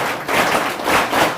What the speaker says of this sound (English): Where is a grand clap?